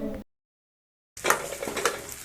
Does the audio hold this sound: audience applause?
no